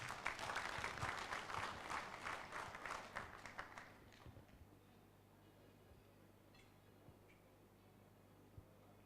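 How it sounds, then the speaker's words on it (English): An audience gives a round of applause for the opening speaker at the official launch of a pandemic preparedness project in Uganda, dense clapping that fades over a few seconds into a quiet room with scattered faint ticks. "Let's give her a round of applause."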